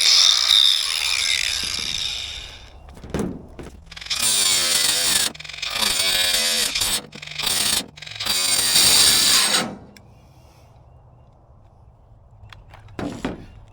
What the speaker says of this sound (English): Now I'm going to go ahead and cut using a cutting blade on a grinder.